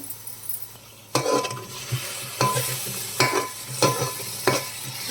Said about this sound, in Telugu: బాగా ఫ్రై చేసుకోవాలండి టమాటా పచ్చివాసన పోయే వరకు